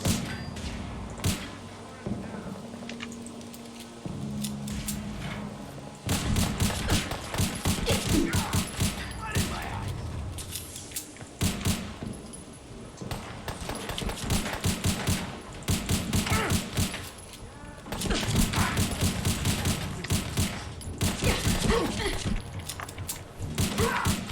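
Gunfire in the game Fallout 4, dense bursts of rapid shots and thuds in volleys across the scene, loud and sustained with short lulls, mixed with game sounds and occasional voices.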